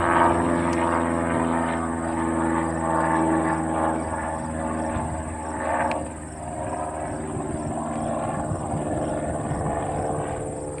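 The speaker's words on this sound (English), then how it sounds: "what looks to be like a Piper or a Cessna just took off from 24" Small propeller plane, a Piper or Cessna, taking off from runway 24 at Green Bay Austin Straubel International Airport, a steady loud engine drone that swells slightly midway and holds throughout.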